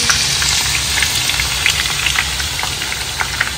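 Sliced onions deep-frying for biriyani, a loud continuous crackling sizzle close by, like steady rain, with no speech over it.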